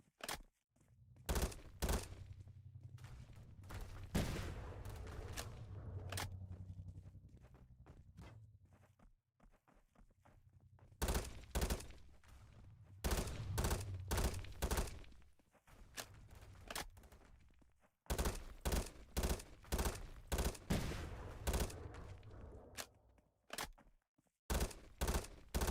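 Video game gunfire in rapid bursts, sharp cracks in clustered volleys separated by short pauses over a low rumbling background, loud and close throughout.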